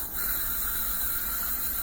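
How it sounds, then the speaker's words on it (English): Aerosol spray hissing steadily through an apartment, a continuous close, bright hiss holding even for the whole stretch with no talk over it. "just doing some spray downs"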